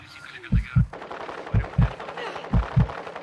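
Sniper fire in a multiplayer shooter game lands as three evenly spaced pairs of heavy, booming thuds. Game noise runs underneath.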